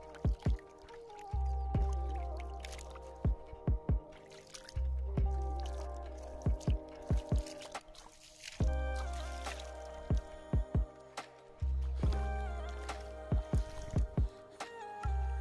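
Water at the Narayani and Rapti river confluence at Golaghat, Chitwan, is splashed by hand in rhythmic clusters of close, sharp slaps over a steady low rumble, repeating several times.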